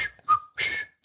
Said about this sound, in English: Damn, I can't whistle.